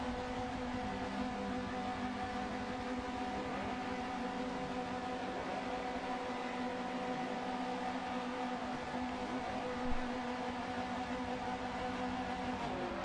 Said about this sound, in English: So we can hear the revs climbing, waiting for the green.